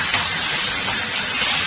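Fish frying on a hot tawa just after being flipped, a loud, steady, close-up hissing sizzle with no pauses.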